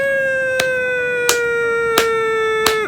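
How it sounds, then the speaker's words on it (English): A wailing ambulance siren added as a sound effect holds a steady high tone with strong overtones for about three seconds, cut by a few sharp clicks, loud and alone with no speech. "every time I do that noise, my editor puts an ambulance in the background"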